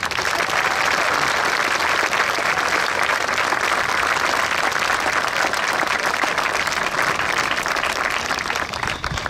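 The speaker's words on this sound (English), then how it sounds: "Please join with me in thanking them with a real warm round of applause." Sustained, dense applause from an outdoor audience at a Veterans Day ceremony at the Mt. Soledad National Veterans Memorial, steady and loud from start to finish with no talking over it.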